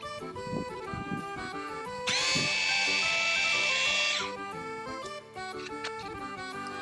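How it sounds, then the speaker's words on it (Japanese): A Makita HR262D hammer drill on a test run in drill mode whirs for about two seconds, starting and stopping abruptly over steady background music. "まずはドリルモードだ。"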